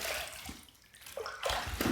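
Quiet running tap water splashes and gurgles during a rinse, faint and brief with a slight dip in the middle before the flow picks up again.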